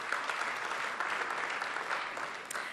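Audience applause at a startup ecosystem event, a steady dense clapping from a large crowd that holds at an even level for about three seconds with no speech over it.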